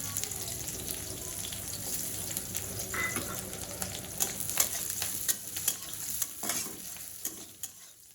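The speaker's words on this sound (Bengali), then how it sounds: "এখানে ডিমটা প্রথমে অমলেট করে নিলাম।" Egg omelette frying in a pan, a soft steady sizzle under repeated scraping and stirring clatter that grows busier toward the end, with no voices.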